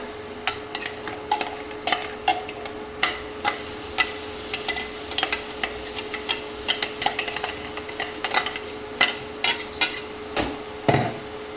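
Tomatoes tipped into onions frying in a pan while making saag of spinach, radish and fenugreek, then stirred: a steady run of sharp utensil clicks and scrapes against the pan over a low sizzle, with no talk.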